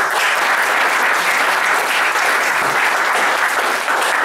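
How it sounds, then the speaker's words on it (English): A large audience at a corporate event applauds steadily for over four seconds, a loud, dense, even roar of clapping with no speech over it. "Can we give a round of applause?"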